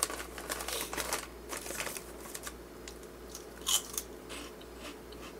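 Someone crunches an airy, shrimp-flavored Hello Kitty snack, with close, crisp bites and crackling chewing in irregular bursts, one sharper crunch standing out near the end.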